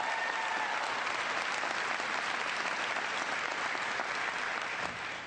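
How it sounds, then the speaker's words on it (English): A large town hall audience in New Hampshire bursts into sustained, loud applause, a thick, even wash of clapping that holds for over five seconds before easing slightly at the end. "Give her a big round of applause."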